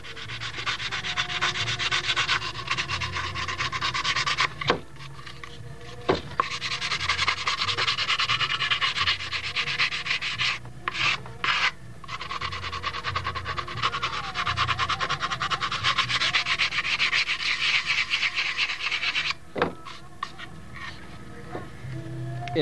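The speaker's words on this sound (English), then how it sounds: "I'm trying to grind this in and make a smooth transition here." Steady, close rasping of sanding and grinding on a Brodak Cardinal model airplane wheel pant, blending a hole into a smooth transition, running continuously with a few short pauses and brief knocks.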